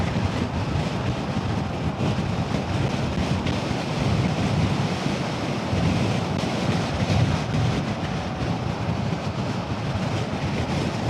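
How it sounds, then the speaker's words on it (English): Loud, steady wind roar through the cracked-open visor of a motorcycle helmet at 50 mph on a LiveWire S2 Del Mar, broadband and buffeting, unbroken from start to finish. "visor's cracked open. Quite a bit of wind coming through."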